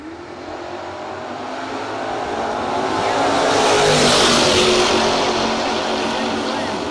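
A Barracuda and an Oldsmobile drag racing car launch at a no-box drag race. The engine roar swells from a steady drone to a loud peak mid-run, then begins to fade as the cars pull away, with an announcer heard faintly.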